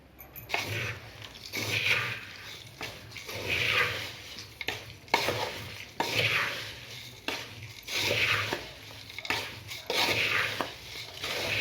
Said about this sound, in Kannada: ಮಿಕ್ಸ್ ಮಾಡ್ಕೋಬೇಕು ಚೆನ್ನಾಗಿ